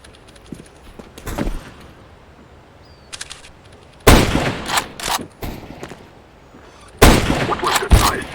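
Sniper rifle gunfire in the game CS:GO, with loud sharp bursts of shots in two clusters, separated by quieter stretches holding faint distant pops.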